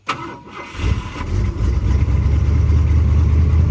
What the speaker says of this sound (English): 3 pumps on the pedal, 1, 2, 3, pull your choke all the way out, and it should fire right up